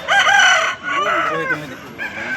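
A rooster for sale at a hen market in Pileru crows loudly and close by, one long drawn-out call that rises and wavers before trailing off.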